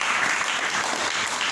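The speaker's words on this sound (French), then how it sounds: "Applaudissons notre Dieu." A church congregation applauds its God during a French-language worship service, steady dense clapping filling the room without a break.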